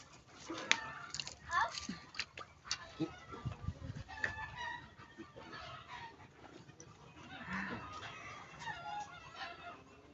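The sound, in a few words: native chickens clucking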